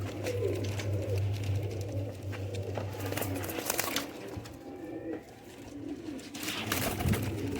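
Low, throaty cooing from several young high-flyer pigeons repeats steadily through the clip, close by, with soft rustling and fluttering mixed in.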